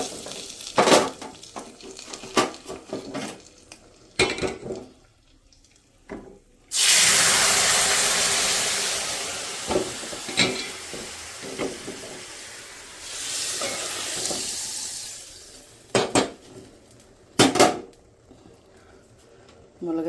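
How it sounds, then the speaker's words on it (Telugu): Tempering for drumstick rasam sizzles in a hot pan, a loud hissing burst that fades, then another stretch of frying hiss, among clinks and stirring knocks from the pan. "మరిగిపోయిన తర్వాత తాలింపు వేస్తాను."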